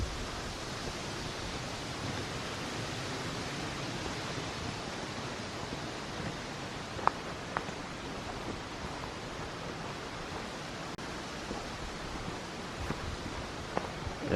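Steady wind rushes through trees along a northern hiking trail, a broad, constant hiss with no talking and only a few faint ticks and rustles close by.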